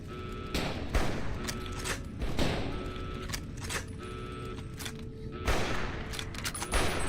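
Gunfire with armor-piercing rounds in Fallout: New Vegas, a series of loud, sharp shots with rapid bursts at irregular intervals over a steady background.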